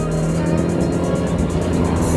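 A Nissan GTR at a drag race shootout, its loud engine droning steadily and close with a dense, rumbling tone and no clear rise or break.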